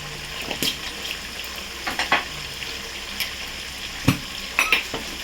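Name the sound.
stirring spiced mango in a pan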